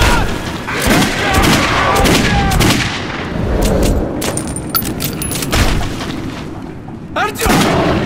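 Rapid gunfire bursts and booms in the video game Metro 2033 Redux, loud and dense, with shouting voices mixed in throughout.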